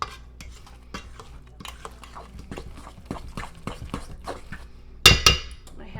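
A fork scrapes around a bowl while mixing banana bread batter, giving a run of soft, irregular clicks and scrapes close by, ending in two louder knocks against the bowl.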